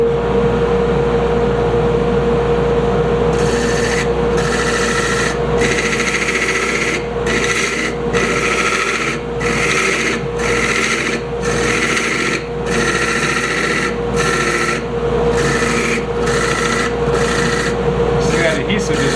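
A lathe turns a bangle, its steady motor hum running under repeated scraping cuts as the tool peels away adhesive, each pass a rough burst of a second or so, with a voice talking over it.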